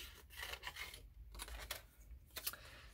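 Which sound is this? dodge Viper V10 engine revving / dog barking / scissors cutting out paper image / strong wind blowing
scissors cutting out paper image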